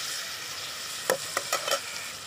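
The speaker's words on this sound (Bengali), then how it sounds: "আমি এখন খুব ভালো করে নেড়ে দেব টমেটো কুচি দিয়ে দেব" Spices and chopped tomato being stirred in a frying pan over a steady high sizzle, with four quick spoon scrapes in a row near the end.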